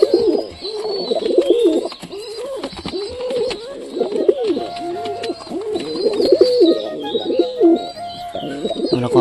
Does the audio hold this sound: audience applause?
no